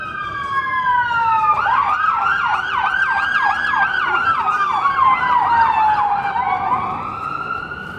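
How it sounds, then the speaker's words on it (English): Ambulance siren wailing in a city street, its rising and falling two-tone sweep loud and close throughout, holding strong before easing slightly as the vehicle passes, with no talk over it. "Was that an ambulance?"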